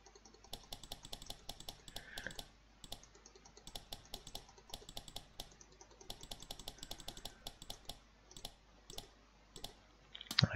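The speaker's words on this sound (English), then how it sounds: "So let's type here word sleep." Computer keyboard typing in an escape room video game, a run of quick light key clicks in uneven bursts with short pauses, close and fairly quiet, ending with a couple of firmer taps.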